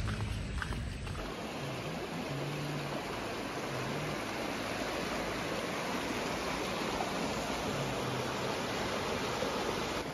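River water flows at a riverbank, a steady, broad rushing wash that carries on unbroken from start to finish with no voices.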